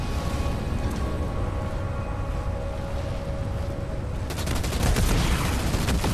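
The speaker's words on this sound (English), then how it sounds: "I'm receiving fire from enemy ground troops!" Enemy ground troops open fire in Halo Wars 2: a steady battlefield rumble suddenly breaks into a loud, rapid burst of gunshots over the final seconds.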